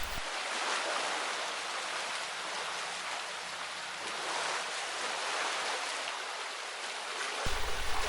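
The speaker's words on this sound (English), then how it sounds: "I have only opened one of the gate paddles to allow water to pass gently through the lock chamber" Water rushes through a single open gate paddle into a narrowboat lock chamber, making a steady broadband whoosh like a stream. It continues evenly for about seven seconds with no voices.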